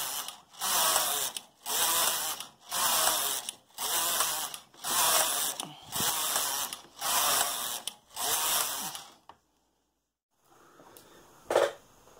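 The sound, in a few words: Brother knitting machine carriage knitting rows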